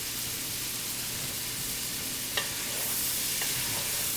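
Sausage, onions and garlic cooking in a pan, a soft steady sizzle with a couple of light utensil taps, fairly quiet and free of speech.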